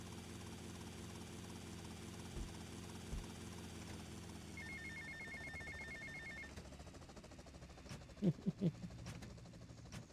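A helicopter in the game GTA Vice City gives off a low, steady, fairly faint rotor and engine drone that continues under game sounds, with brief tones and a few clicks and thumps near the end.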